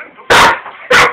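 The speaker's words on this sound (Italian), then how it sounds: "Perché abbai?" A dog, frightened by a vacuum cleaner, lets out two loud, sharp barks close to the microphone, separated by a short pause, indoors.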